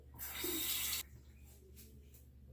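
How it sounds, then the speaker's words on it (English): Tap water runs briefly over a One Blade Core safety razor being rinsed at a sink, a soft splashing hiss for about a second before it stops, leaving a quiet room hum. "Never mind, gotta rinse the razor"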